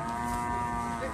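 A cow lowing at a cattle market where beef cattle ready for slaughter are sold, a single sustained, droning moo with a harmonic tone, heard close and loud.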